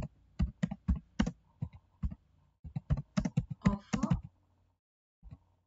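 Someone types on a computer keyboard close by, crisp key clicks coming in quick clusters with short pauses, ending in a last lone keystroke, while a word or two is murmured.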